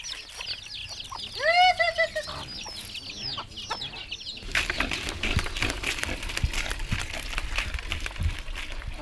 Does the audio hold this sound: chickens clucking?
yes